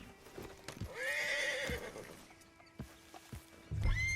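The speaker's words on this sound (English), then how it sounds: "Get on the horse when you're ready." A horse in the video game Red Dead Redemption 2 lets out a loud, close whinny. Scattered hoof clip-clops and a snort follow.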